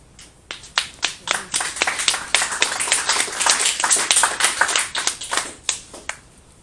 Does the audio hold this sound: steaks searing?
no